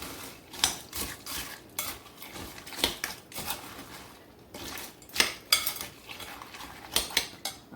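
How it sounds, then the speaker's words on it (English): Spoon clinking and scraping against a bowl while creamed corn from a can is stirred in a home kitchen, a series of sharp, close metallic taps in irregular bursts with quiet gaps between. "we'll go ahead and stir this together real quick"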